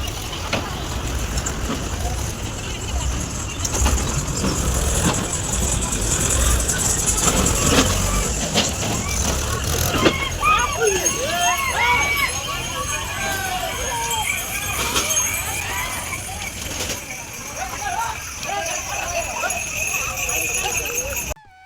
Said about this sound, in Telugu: ఈవినింగ్ అయితే ఊర్లో గుడి చుట్టూ అయితే బండ్లు తిరుగుతాయి కదా